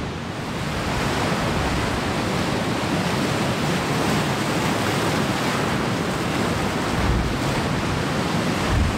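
Choppy waves on Lake Superior at a backcountry cove campsite along Pictured Rocks National Lakeshore roll and wash loudly and steadily, with wind buffeting throughout and no voices.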